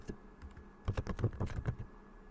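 Keys clatter on a computer keyboard as a search for a Windows setting is typed, a quick burst of close, fairly quiet taps with no voice.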